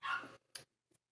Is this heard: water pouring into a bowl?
no